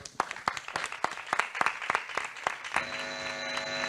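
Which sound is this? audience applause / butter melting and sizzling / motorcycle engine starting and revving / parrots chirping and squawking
audience applause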